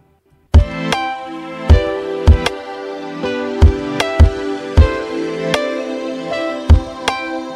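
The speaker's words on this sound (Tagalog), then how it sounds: "yun yung tunog ng drums natin" A drum pattern with punchy kick thumps and sharp snare hits, mixed with sustained keyboard chords, playing a steady groove.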